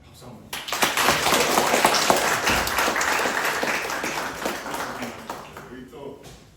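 Audience applause at a graduation ceremony for horse heritage guides in Jeju, a dense, steady wash of clapping that swells quickly, holds for several seconds and tapers off, with a voice speaking over it.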